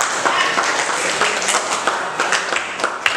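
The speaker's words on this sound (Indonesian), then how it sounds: "berikan aplaus buat kelompok" A group applauds together in a classroom or training session on automotive basics, with steady, dense clapping throughout and a few sharper individual claps standing out.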